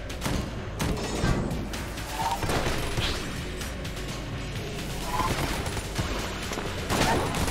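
Dense, continuous bursts of rapid gunfire with crashing impacts from the video game Enter the Gungeon fill the whole stretch, loud and close, like a hectic shooter game with no talk.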